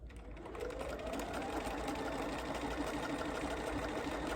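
Sewing machine running through fabric with a fast even needle clatter over a low motor hum, starting softly then holding steady and fairly quiet, nobody talking.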